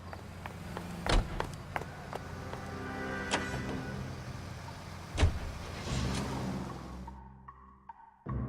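A car drives in L.A. Noire, its low engine rumbling steadily under scattered clicks and thumps before it cuts out near the end.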